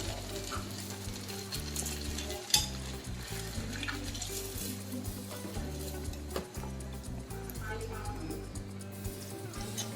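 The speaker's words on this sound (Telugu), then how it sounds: "ఇవి ఇలా బ్రౌన్ కలర్ వచ్చేదాకా వేయించుకోవాలి" Vegetable pocket samosas deep-frying in oil, a continuous bubbling sizzle running under steady low background music with a few clinks.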